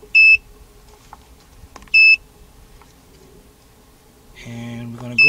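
An Autel scan tool switched on beside a 2000 Dodge Ram van gives two short, high electronic beeps about two seconds apart, close and clear over a quiet room, followed by a brief start-up tone sequence.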